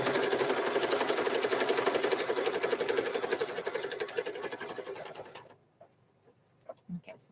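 A sewing machine stitches down a purple fabric mug rug, its steady rapid mechanical whir running close and loud for about five seconds before stopping, followed by a few faint handling clicks.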